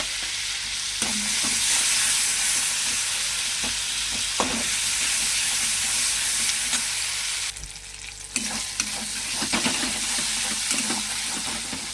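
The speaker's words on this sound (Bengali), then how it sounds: "বেটে রাখা আদাটা দিয়ে দিলাম" Ground ginger paste goes into a pan of frying tomatoes for a vegetarian soya chunk curry, giving a steady close sizzle with a few scrapes of stirring and a brief quieter break midway.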